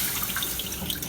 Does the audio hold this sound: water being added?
yes